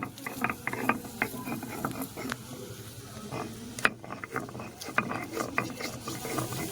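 Ginger and garlic being ground for a chicken gravy, giving a steady run of scraping, clicking and grinding strokes at close range, with no speech.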